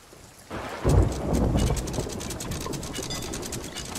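A sudden thunder rumble breaks in during the video game Sea of Thieves, followed by steady rain pattering on a surface, fairly close and continuous with no talking.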